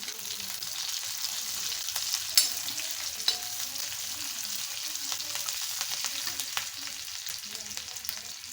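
Garlic frying in a pan gives a continuous, even hiss of sizzling oil with a few faint clicks and pops, close by and moderately quiet.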